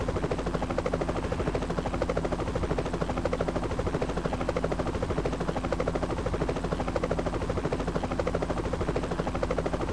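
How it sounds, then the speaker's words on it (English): An Mi-24 Hind attack helicopter in the Eurofighter Tactcom flight game, its rotor a steady, rhythmic thumping drone with a constant engine whine that stays loud and unchanging throughout. "There's an MI-24 Hind and we've encountered that before in the previous video and they're quite dangerous."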